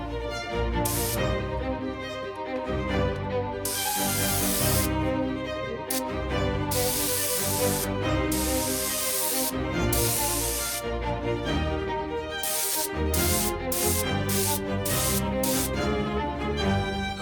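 A spray gun laying a thicker second coat of yellow paint on a car, loud close hissing bursts that start and stop repeatedly over a continuous mechanical hum.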